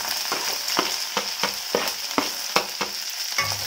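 Chopped onions sizzling in a hot pan for palak paneer, a steady frying hiss broken by regular stirring scrapes every few tenths of a second, close and fairly loud with no voices.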